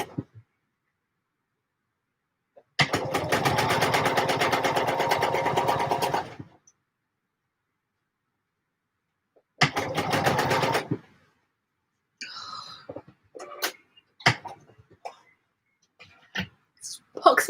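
A sewing machine stitches velvet for a pouf in two close, loud runs, the first about four seconds and the second shorter, separated by silence. Scattered clicks and handling noises follow.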